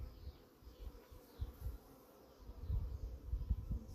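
Honeybees buzzing low and steady around an open hive during an inspection of a newly added brood box, a close, fluttering drone that swells and fades with the bees' movement.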